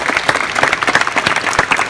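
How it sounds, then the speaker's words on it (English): Basketball campers clap for themselves at the close of a camp, a loud, close burst of many hands applauding in a brisk, dense patter that fills the short moment. "Give yourselves a round of applause."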